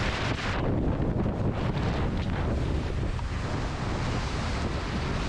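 Wind buffets the microphone on a speeding boat out on open water, producing a loud, continuous roar with rushing water and surf beneath it, steady for the whole stretch without any voices.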